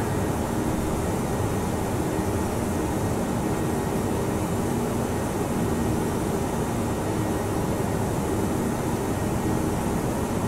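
A Boeing 737 airliner in flight in the Prepar3d flight simulator, heard as a steady, unbroken cabin hum of engines and airflow at moderate loudness, with no talking.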